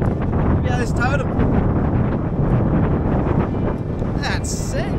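Strong wind buffets the microphone throughout with loud, continuous low rumbling on a four-wheel-drive track in the Flinders Ranges of South Australia, while someone talks over it.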